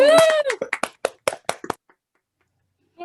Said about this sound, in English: if you guys want to just all unmute and clap